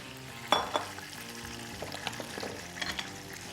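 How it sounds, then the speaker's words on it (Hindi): Kofta balls frying in hot oil, a steady close sizzle with a sharp spatter at the start and occasional stirring clinks. "इसको अभी आराम से 2-3 मिनट और फ्राई करेंगे"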